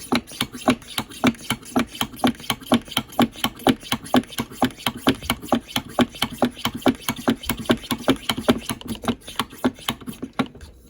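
A Fire Maple Lava camping stove's fuel bottle being hand-pumped 25 times, a steady, evenly spaced series of close, sharp pumping strokes in a quick regular rhythm with no talk.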